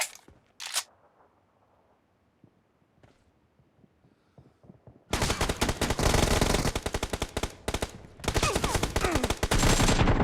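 PUBG video game gunfire: rapid automatic bursts burst in loudly after a quiet opening, sustained volleys with a brief gap, close and dense, no talk.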